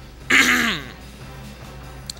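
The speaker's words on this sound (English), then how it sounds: "I cough loud." One loud, harsh cough or throat-clear comes from a man close to the microphone during gameplay commentary for Valkyria Chronicles; it lasts about half a second and is followed by quiet room noise.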